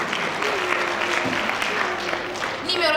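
An audience applauds a candidate at a French-language spelling contest preselection in Sikasso: dense, steady clapping fills the whole moment, swelling slightly at the end, with a voice faintly audible beneath it.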